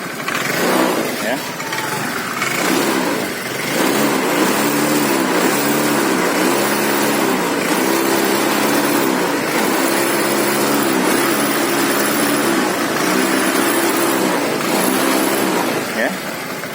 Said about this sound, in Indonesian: Gas ini sudah mentok gini tapi putaran RPM-nya tidak bisa begitu tinggi ya.